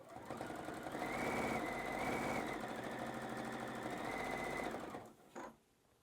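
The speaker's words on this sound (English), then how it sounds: "I'm going to sew down here until I'm almost out of the fusible fleece" A sewing machine runs steadily for about five seconds, stitching fusible fleece on a tote bag strap with a dense, rapid mechanical whir, then stops abruptly and leaves a short clunk before quiet.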